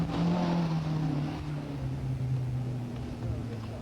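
A 1700 Ford Escort rally car in the 2 litre class runs a stage of the 1982 Kerry rally, its engine a steady loud drone held for several seconds, pitch sliding slightly as it goes by.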